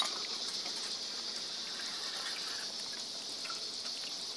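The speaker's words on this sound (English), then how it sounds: "Next thing is your flow rate on your water. You just want it going good enough" Water pours steadily over a gold shaker table, washing light black sand down the deck in an even, continuous gush that stays fairly close and unbroken throughout.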